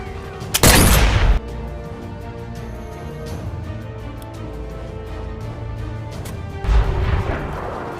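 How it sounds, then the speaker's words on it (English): Sniper rifle fired in the Sniper Elite VR video game during weapon testing, two loud booming shots about six seconds apart, each with a rolling echo, with faint mechanical handling noises between them. "I took a few moments to test the weapon and my aim."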